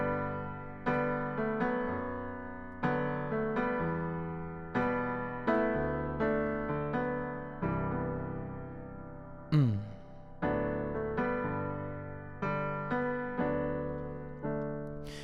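Solo piano plays the intro of a song: sustained chords struck at a steady, unhurried pace, each ringing and decaying, with one brief sliding flourish midway, clear and alone.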